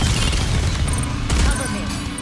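Dense gunfire in the NIKKE mobile shooter, a steady rapid stream of shots with heavy low booms, loud and continuous over battle noise, with a voice briefly over it.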